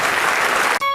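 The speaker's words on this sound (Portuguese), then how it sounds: "Vamos aplaudir ao nome de Jesus." A church television audience claps loudly and densely in praise, a brief burst of applause that cuts off abruptly at the end.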